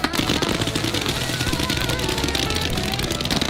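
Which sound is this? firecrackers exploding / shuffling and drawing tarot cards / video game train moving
firecrackers exploding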